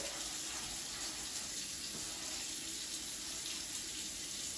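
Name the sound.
rinsing air fryer basket under running tap water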